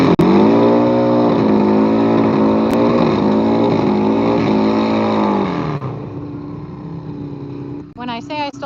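A Harley-Davidson Dyna Wide Glide motorcycle engine roars loudly at a drag raceway, a harmonic-rich drone holding for several seconds before abruptly cutting away, leaving quieter background and a voice at the end.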